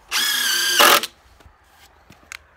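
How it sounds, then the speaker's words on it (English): A power drill drives screws into a timber frame girt, one loud close whirring burst of just under a second, then quiet with a few faint knocks and clicks. "I just run a couple screws in just to hold that girt up"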